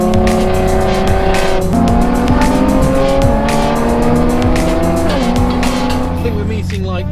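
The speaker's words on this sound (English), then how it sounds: "we've got the 370Zs making Chewbacca noises" Several Nissan 370Z cars at a modified car meet let out loud, wailing exhaust notes with rising and falling pitched whines, engine revs sliding over a constant rumble, close and sustained, with crackling pops overhead.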